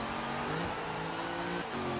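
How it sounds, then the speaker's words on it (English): A 1969 Camaro V8 with an AWD drag build revs hard in Forza Horizon 3, a loud, continuous engine roar whose pitch climbs and steps between gears with no talking over it. "Revving like crazy."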